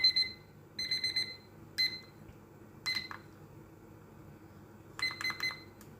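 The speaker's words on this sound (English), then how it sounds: "timer's ready with 3 minutes" A kitchen timer gives out several bursts of rapid high electronic beeps, spaced irregularly as buttons are pressed to set it, sharp and close over a soft low background hum.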